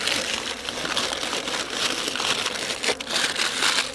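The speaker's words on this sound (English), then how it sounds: "I'm just going to take this paper off." Crinkling and crackling of paper being pulled and peeled off a chunk of bee-feeding sugar atop a hive, a continuous rustle with small sharp crackles, close by and without talking.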